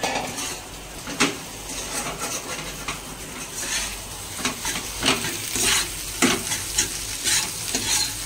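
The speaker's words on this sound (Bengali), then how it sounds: "এবার একটু ভাজা ভাজা করে নিব" Egg fries in a pan with carrot, potato, onion and green chili, a steady close sizzle broken by repeated scraping stirs of a utensil against the pan, with no talking.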